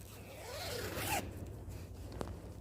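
Clothing zipper on a dress pulled up in one smooth rising zip lasting about a second, close and clear, followed by a faint click.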